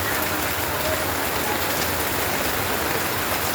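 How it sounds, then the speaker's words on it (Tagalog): Heavy rain from Typhoon Kristine pours down steadily in a dense, unbroken hiss, loud and close, with no pauses. "Tuloy-tuloy pa rin ang ulan"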